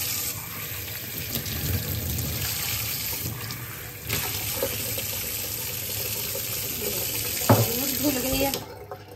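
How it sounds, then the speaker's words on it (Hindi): Dates being rinsed under running water from a tap into a sink, a steady close splashing stream with some clatter, and someone speaking over it. "खजूर धो लेते हैं।"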